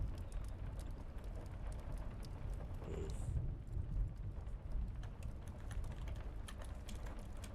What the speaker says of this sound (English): enjoy the rain sounds while I write